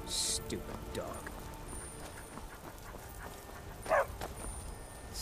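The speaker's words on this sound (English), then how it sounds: "Stupid dog." A dog barking in Skyrim: a couple of short faint yips and whines early, then a clearer single bark near the end over quiet ambient game sound.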